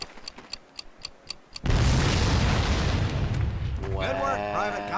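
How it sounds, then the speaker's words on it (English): A planted demolition charge detonates in Medal of Honor Pacific Assault boot camp, a sudden loud boom that rumbles and roars for seconds after some ticking, as a voice starts talking near the end. "want to see the explosion"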